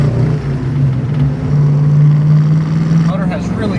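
Engine of a 1966 Ford Mustang running steadily on a test drive, a continuous low drone with a rising hum under road noise, loud and close throughout.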